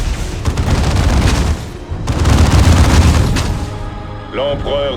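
A grenade blast in the video game Dawn of War 2 comes through as loud, rumbling booms and crackling battle noise in two heavy surges, followed by a short synthetic voice-like tone at the end.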